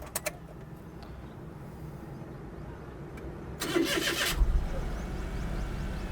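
A 2012 Daihatsu Hijet 660cc engine cranks briefly and catches, then settles into a steady idle, heard close up after a few seconds of quiet.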